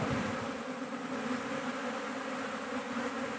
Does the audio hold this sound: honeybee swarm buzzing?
yes